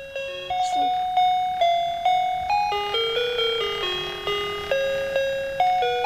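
A Firefly Crawl Along baby toy plays a bright electronic chime melody of repeated, evenly paced tones, close and fairly loud, with no voices.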